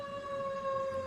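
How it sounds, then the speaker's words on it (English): An ambulance siren going by holds a steady tone with a bright harmonic above it, clear but moderately distant over faint background noise, and no voices. "And we've got an ambulance going by."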